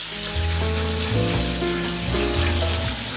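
Blueberries rinsed under a running kitchen tap, a steady close water rush with shifting tones as the stream hits the fruit and bowl, no talking.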